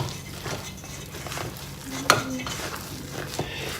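A rubber spatula works through thick gluten-free, dairy-free figgy pudding mixture in a bowl, giving soft repeated scraping and squelching strokes with one sharper knock against the side.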